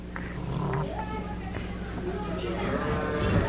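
Sheep bleat inside a county fair sheep barn, with several short wavering calls rising over steady barn noise and a murmur of nearby voices.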